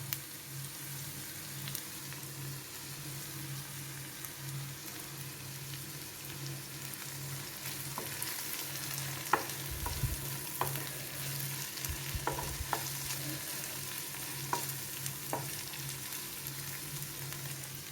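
Chicken roast masala fries in a pan under a steady low sizzle, with scattered clinks and scrapes of a spoon stirring, growing more frequent in the second half; quiet and close, with no voices.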